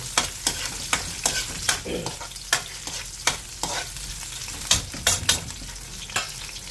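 Small Ilocano garlic sautéing in a pan for pork binagoongan adobo: a close sizzle broken by frequent sharp scraping strokes of a spatula, coming in a loose, irregular rhythm.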